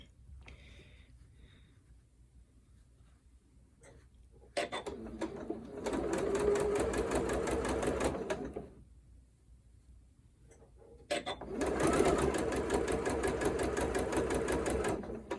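A sewing machine stitches curved quarter-circle, Drunkard's Path quilt pieces under a quarter-inch foot, running in two sustained bursts with a quiet pause between them.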